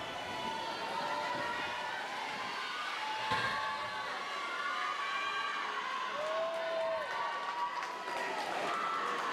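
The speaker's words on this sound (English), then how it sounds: "Got a pretty good crowd here tonight cheering the teams on." At an indoor swim meet, a crowd cheers the teams on: a steady roar of many voices with shouts and whistles over it, echoing and fairly distant, with an announcer's voice on top.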